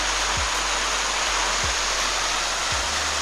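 A big waterfall in the high, cold hills near Nova Friburgo, Brazil, roaring as a loud, constant broadband rush with low wind thumps and no voices.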